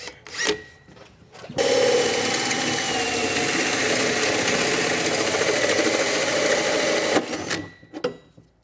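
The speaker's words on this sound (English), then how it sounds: "So I have a 2 1/8 hole saw. This lined up and carefully drill it out." A 2 1/8 inch hole saw grinds loudly through metal on a 2019 Ford F-150, a harsh continuous whine starting and stopping abruptly, with brief clatter before and after.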